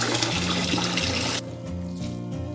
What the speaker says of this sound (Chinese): 然后我们再用冷水把它冲洗一下，让它彻底降温。